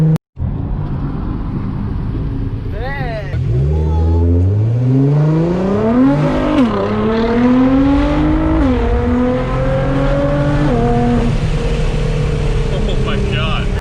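A straight-piped Nissan GT-R accelerates hard, its engine note climbing through several gears with sharp rises and brief dips at each shift. The sound is loud and close, held for over ten seconds.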